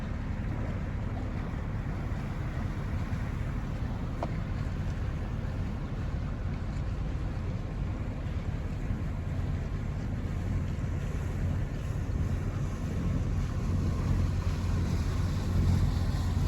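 A steady low rumble of a tour boat engine moving on water near Lefkada, with broadband wash and some wind noise. Continuous and fairly even throughout, with no talking.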